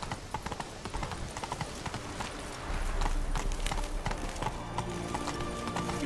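Roach, a horse in The Witcher 3, hammers out a rapid clip-clop of hooves at a gallop, steady and fairly loud, joined by a low rumble partway through.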